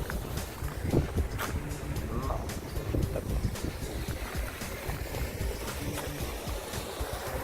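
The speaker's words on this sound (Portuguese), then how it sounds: "Aquele ventinho batendo. Ventinho, aqui tá levando tudo." Strong wind buffeting the microphone at a fishing pond at night, a steady rumbling roar with gusty low-frequency thumps and faint scattered clicks throughout.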